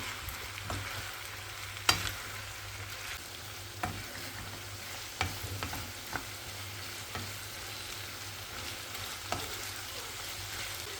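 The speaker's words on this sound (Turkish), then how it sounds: "2 adet iri iri doğradım kırmızı biberi ilave edip kavurmaya devam ediyorum." Vegetables and coarsely chopped red pepper sauté in a pan with a steady low sizzle, broken by sharp clicks and scrapes of a utensil stirring every second or two.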